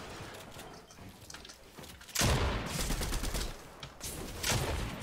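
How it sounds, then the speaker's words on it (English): Gunfire in the video game Fortnite: dense, rapid bursts of shots with heavy booming blasts that build up in the middle and near the end, loud and continuous, with no talk. "What does this gun do if I shoot it up?"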